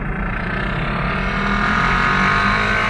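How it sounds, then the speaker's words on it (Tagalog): A motorcycle engine's exhaust rumbles steadily and loudly at close range while riding home toward Novaliches, a continuous low drone with no speech. "Ayan, tignan nyo yung barutbot ng motor."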